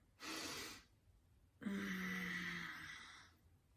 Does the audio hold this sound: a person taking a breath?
yes